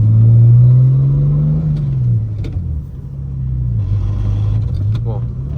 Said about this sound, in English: We're gonna do rolling anti-lag in 2nd gear in map 4, 26 pounds boost.